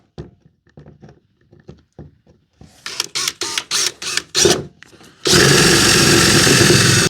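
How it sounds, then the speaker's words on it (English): A power drill bores through a metal plate on a 2009-2014 Ford F150 during a backup camera install, first in several short start-stop bursts, then in one sustained loud, close whine. "There is a little bit of a plate here, but I can just drill"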